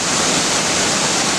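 A waterfall feeds a river, giving a dense, loud, steady rush of falling water with no break across the short stretch.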